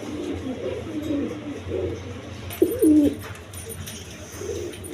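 Pigeons cooing close by, a few low throaty coos and warbling calls spread across the moment over a steady background hum.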